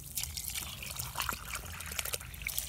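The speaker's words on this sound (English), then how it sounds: "we'll just take some water. Here, look. And we'll rinse this off." Water trickles and splashes steadily while being poured to rinse rock tumbler stones, a continuous close-up dribble with small bright drips throughout.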